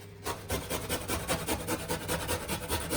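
Fresh ginger rubbed against a grater in steady, even back-and-forth strokes, a regular rasping rhythm that runs close and clear throughout with no talking.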